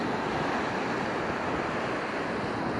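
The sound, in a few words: ocean waves washing onto a rocky shelf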